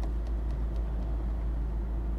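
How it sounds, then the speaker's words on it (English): Road traffic rumbles steadily as heard from inside a car during a UK driving test, a low, continuous engine and tyre drone without distinct pass-bys and with no talk. "I can see cars approaching from that side"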